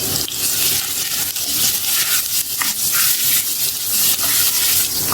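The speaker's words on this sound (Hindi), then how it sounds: "इसे गोल्डन ब्राउन होने तक फ्राई करेंगे" Sliced onion frying in hot oil until golden brown, a loud, steady sizzle and hiss that runs unbroken with no voices.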